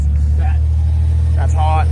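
A 1994 Nissan 300ZX engine runs steadily with a deep, constant low drone, loud and close, while people talk excitedly over it.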